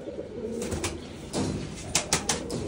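Breeding pairs of pigeons in a loft coo softly and close, with several brief sharper bursts like wing flaps near the end.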